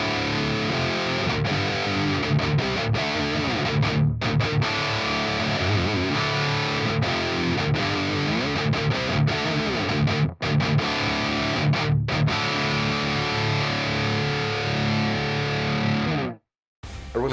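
Heavily distorted high-gain electric guitar through an amp simulator plays chugging riffs continuously and loudly, with brief gated silences and an abrupt cut near the end.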